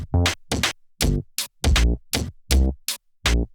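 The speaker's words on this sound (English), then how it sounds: "there's a little interplay that I put in between the drum and the bass" A soloed drum and bass part from a beat plays alone: punchy kicks and snappy hits interlocking with short deep bass notes in a tight, bouncy rhythm, clean and upfront.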